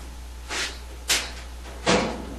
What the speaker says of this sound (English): place a spatula between the front and top panels and pry up to undo the holding clips